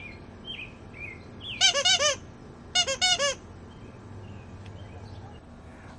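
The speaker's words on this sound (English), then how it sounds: "like this dinosaur Squeaky" A dinosaur squeaky toy carried as a bicycle accessory gives two quick bursts of sharp, high squeaks, each a rapid run of several squeezes, close and loud over a faint background hum.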